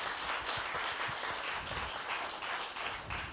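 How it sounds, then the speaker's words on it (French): An audience at a pitch workshop claps steadily for several seconds, a dense even patter of many hands with no voices on top. "On peut applaudir Eva, hein? Bravo."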